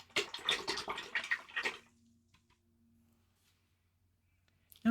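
A paintbrush swishes and clinks in a water jar for under two seconds while being rinsed during an alpine lake landscape painting, leaving a faint quiet tail afterward.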